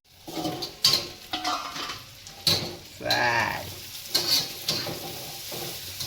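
Dhaba-style egg bhurji cooks in a covered pan over a low gas flame, giving a soft, uneven sizzle broken by several sharp clinks of metal pan or lid, close by.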